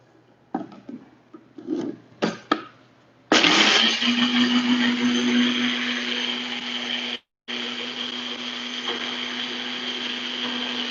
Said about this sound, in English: we're going to put it in the blender and make everything into paste